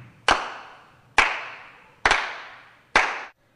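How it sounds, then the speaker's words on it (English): Four evenly spaced sharp claps ring out about a second apart, each with a short echoing decay, as an audience claps along in a hall at a talk on fall prevention. "I would like everyone to go ahead and clap along with us"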